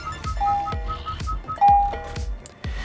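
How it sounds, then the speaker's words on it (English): Navigation chime from a 2023 Hyundai Elantra infotainment system, two bright bell-like dings a second or so apart over a rhythmic low thumping in the cabin. "And the sound effects from the nav."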